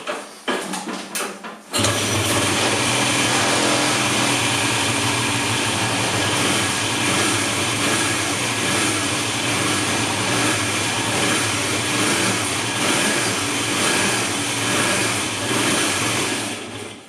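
An MV Agusta motorcycle engine idles close by after a few uneven starting sputters, then settles into a steady, loud, continuous drone for the rest of the clip. No voices can be heard over it.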